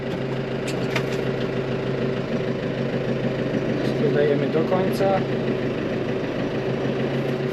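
A New Holland T4.65 tractor engine runs at a steady low idle close by on a farm, a continuous even drone with no revving, while someone talks over it.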